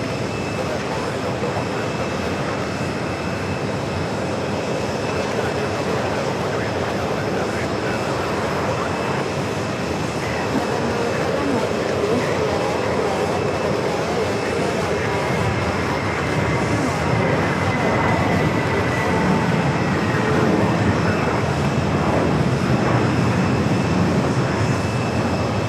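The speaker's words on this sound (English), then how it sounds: "JetBlue Flight 1501 heading to Fort Lauderdale at A321. Next takeoff" JetBlue Airbus A321 taking off from JFK airport bound for Fort Lauderdale, a sustained broad jet engine roar that builds gradually and stays heavy for the whole stretch, heard from a distance.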